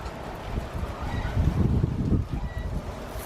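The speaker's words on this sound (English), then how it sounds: "It's getting a bit windy now." Gusty wind blows across a garden outdoors, buffeting the microphone with low rumbling surges that swell in the middle and ease off, steady and close with no talk.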